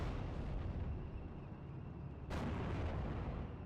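A tank gun fires in the Steel Division World War II strategy game, one sharp, loud blast about two-thirds through, over a steady rumbling battle ambience.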